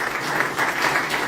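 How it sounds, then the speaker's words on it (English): Audience applause at an investment meet-and-greet event: a brief, continuous burst of many hands clapping at moderate loudness, dense and even throughout. "If that applause was for him, I think it's too much"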